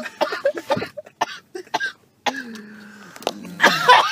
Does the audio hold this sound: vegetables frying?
no